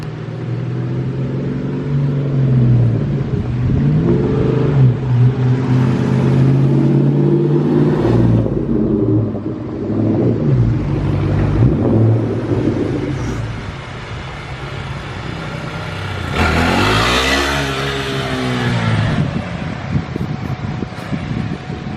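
A 2020 Kawasaki Z650 motorcycle running nearby as its rider comes back, a steady loud engine rumble with wind noise, rising into a brief rev toward the end.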